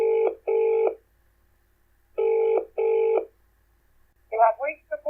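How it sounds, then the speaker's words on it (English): A telephone ringing on an outgoing call gives two paired bursts of ringback tone separated by a pause, clear and alone, followed by the start of a voice. "I might give Marcia a ring"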